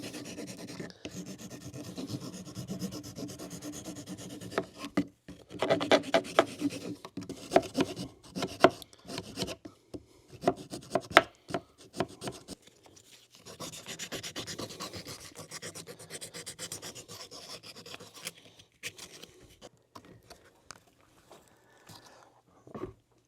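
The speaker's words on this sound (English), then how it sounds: "Now just take a little file, put that bevel back in." A small hand file rasps a bevel back into a hole on a 2017 Kawasaki KX450F dirt bike part, making repeated short scraping strokes in irregular bursts, close and fairly quiet, without talking.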